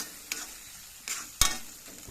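A spoon stirs tomato rice in a pan, giving three soft scraping strokes spaced apart over a faint background sizzle, quiet and close.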